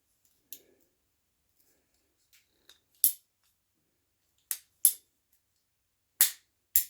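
A very sharp blade snipping through material in a shop, with crisp isolated cuts and clicks spaced irregularly across quiet pauses, the louder snips near the end.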